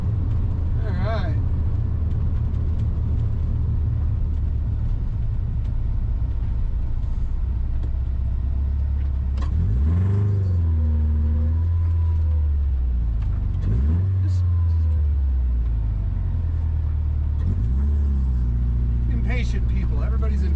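A 1972 all-wheel-drive VW cruising with a steady low engine drone, then revving up through gears in rising sweeps with shifts in between, heard from inside the car while someone talks over it.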